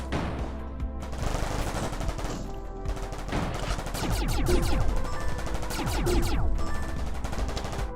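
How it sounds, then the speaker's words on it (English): Guns fire rapidly in the video game Vortica, with dense automatic bursts and overlapping shots, loud and continuous over a rumbling backdrop. "You can see the guns being affected by the magnetic wind. This one is trying to shoot that plant"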